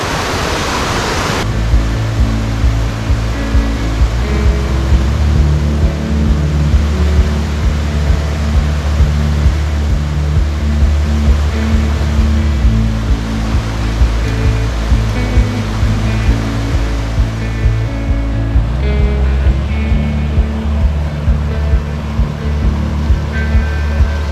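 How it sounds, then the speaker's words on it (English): Fish Creek flows near a backpacking camp in the Sierra wilderness, a loud, steady rushing of water that stays constant throughout with no talk. "this is Fish Creek behind me"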